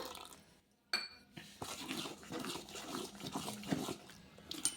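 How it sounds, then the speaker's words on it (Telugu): Water splashes into a thick soaked semolina batter in a bowl, with light clinks and stirring noises following close up. "కొంచెం నీళ్ళు అయితే వేస్తున్నాను"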